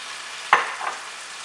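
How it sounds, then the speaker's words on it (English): Shrimp creole with chopped tomatoes cooking in a pan, a faint steady sizzle broken by one sharp close clatter of a spoon stirring, then a softer scrape. "we're going to let this simmer down for a bit"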